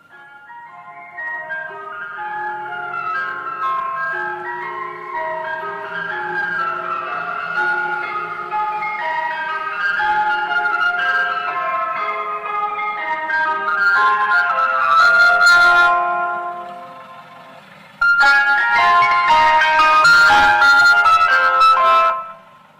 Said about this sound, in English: Okay, anybody know that tune? Greensleeves.